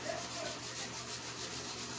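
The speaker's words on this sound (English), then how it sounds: "may I grate some turmeric and some ginger in my pot" Fresh turmeric and ginger are rubbed across a grater into a cooking pot for a Jamaican broad bean stew, giving a close, steady scraping rasp in quick repeated strokes.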